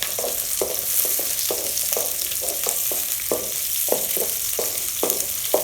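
Garlic, onion and tomato sautéing in a pan for pirandai chutney, a steady sizzle broken by frequent scraping stirs in an irregular rhythm, close and fairly loud with no talking.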